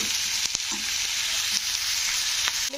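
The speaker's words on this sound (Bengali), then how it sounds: "এগুলো দিয়ে পেঁয়াজের সঙ্গে একটু ভালো করে ভেজে নিতে হবে।" Potatoes fry with onions in a pan on the stove, giving a steady loud close sizzle with a few scraping stirs of a spoon, no voices.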